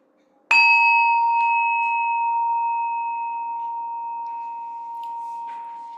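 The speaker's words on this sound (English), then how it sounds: "Oh, you'll hear one chime," A single meditation chime is struck once and rings out clear and bright, its pure tone slowly fading over several seconds in an otherwise quiet room.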